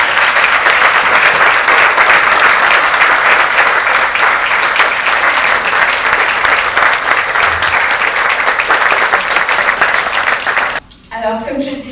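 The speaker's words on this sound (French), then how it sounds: "merci de me rejoindre sous vos applaudissements" An audience at a farewell ceremony for a departing director general gives sustained, dense applause that fills the room evenly, then cuts off abruptly near the end as a voice begins speaking.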